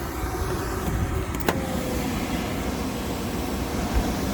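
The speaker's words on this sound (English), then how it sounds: "we got our gas shut off and combustion blowers running" A Lennox gas furnace's combustion blower running with the gas shut off during heat exchanger work, a steady close mechanical hum and whoosh with a brief metallic tick partway through.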